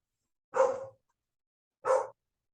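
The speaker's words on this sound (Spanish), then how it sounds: "voy a tratar de callar a ese perro" A dog barks twice outdoors, two short sharp barks about a second apart, moderately loud and alone with silence around them.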